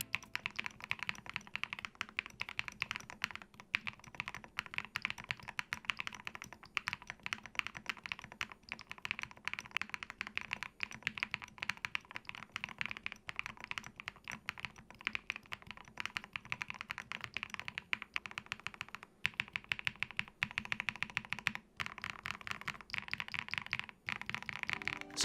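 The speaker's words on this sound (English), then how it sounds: "upgraded, here's how the board sounds." Steady, continuous clacking of keys on a keyboard fitted with Momo Neko keycaps, close up and fairly quiet, with dense rapid keystrokes running throughout.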